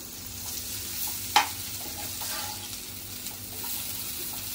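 Sliced okra frying on a flat tawa makes a soft, steady sizzle with a single sharp utensil clink as the pieces are flipped.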